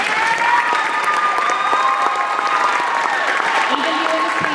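Loud, dense applause mixed with crowd cheers and voices at a high school Veterans Day ceremony, filling the space steadily for the whole stretch.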